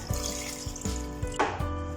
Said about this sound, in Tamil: இப்போது நான் புளி தண்ணி சேர்க்குறேன்